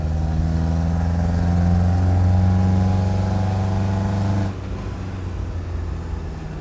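Engine of a 1989 Renault Espace at full throttle, a steady loud droning hum inside the car that holds for several seconds, then drops in pitch and level as the throttle eases.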